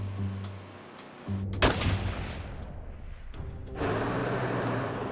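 Gunfire from a Colt C7 assault rifle: a sharp loud report cracks out, followed by lingering rumbling echo and a later swell of broadband noise, with low hum in the background.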